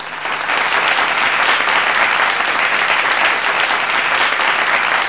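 Audience applause for a singer at a live show, a loud, dense, unbroken roar of clapping from a large crowd lasting the whole stretch.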